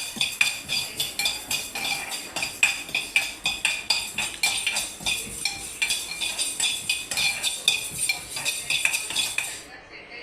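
A spoon steadily stirs fenugreek seeds and toasted pigeon pea lentils dry-roasting in a metal pan for homemade rasam powder, giving continuous close scraping and rattling with rapid clinks throughout, no speech.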